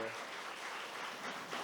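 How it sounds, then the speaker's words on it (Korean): A crowd applauds in a steady wash of clapping, heard from a moderate distance, at the opening ceremony of an academic conference in Yeosu, South Korea. "여러분 다시 한번 큰 박수 부탁드립니다"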